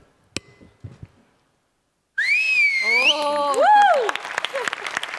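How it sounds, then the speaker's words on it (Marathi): Studio audience on a Marathi comedy show breaks into loud applause and clapping after a quiet pause, with a sharp, rising-and-falling whistle cutting through the crowd near the start. "तुमच्या दोघांसाठी खूप टाळ्या."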